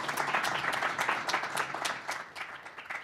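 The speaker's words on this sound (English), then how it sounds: "Let's give them a round of applause." An audience at a National Press Club panel claps steadily, a dense patter of many hands applauding together, fairly even in strength before tapering slightly toward the end.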